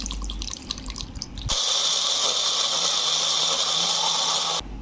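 Water pours steadily into a paste of onion, ginger and garlic for potato biryani, a brief dripping first, then a strong continuous splashing stream lasting about three seconds before stopping abruptly.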